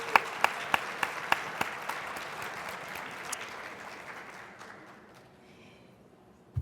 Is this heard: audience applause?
yes